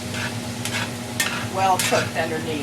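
Onions being stirred in a hot pan, a steady sizzle with scraping spoon strokes over about three seconds, close and moderately loud, with a voice talking over it.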